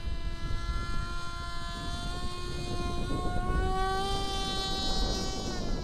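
The motor and propeller of a Katana X2 FPV flying wing buzz steadily in flight, a loud, high, insect-like whine with a slowly shifting pitch and no voices. The prop sits too close to the back of the wing.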